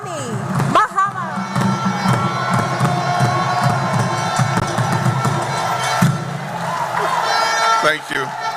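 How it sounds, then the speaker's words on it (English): A large hall crowd in London gives a standing ovation with sustained applause and cheering for Ghana's President John Dramani Mahama at a diaspora town hall, loud and continuous with shouts and voices mixed through. "with a standing ovation and a rounds and rounds of applause"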